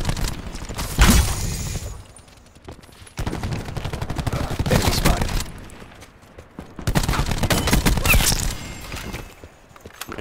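Automatic gunfire crackles in a Black Ops 4 match, dense sustained bursts in three loud waves separated by brief lulls, with sharp impacts and clatter mixed in.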